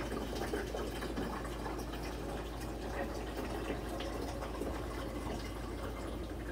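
Water pouring into the reservoir of a Hava mini portable dishwasher, a steady, even rushing and trickling stream with a low hum underneath, continuous and close.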